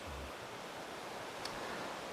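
Water pours over a concrete weir at an old waterworks, making a steady, broad rushing hiss at a moderate distance, with a faint low wind rumble and no talking.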